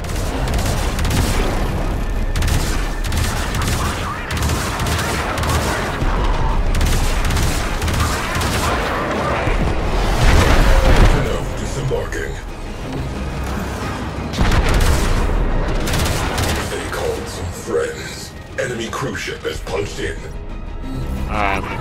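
Heavy cannon fire from a large capital ship in the Warframe Railjack space combat game, with repeated booms and mechanical clatter layered into a dense, continuous battle din under a voice.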